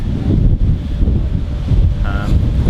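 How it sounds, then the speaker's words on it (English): Strong wind over the open sea buffets the microphone in a constant heavy rush, with a faint tone briefly rising near the end. "Can't peek out, it's always windy in the middle of the sea."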